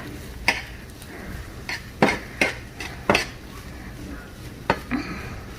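Eggs being stirred in a pan, with several separate clinks and scrapes of a utensil against the pan spaced irregularly over low kitchen background noise, no voices.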